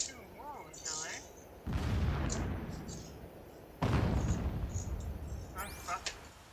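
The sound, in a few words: explosions in Horizon Zero Dawn video game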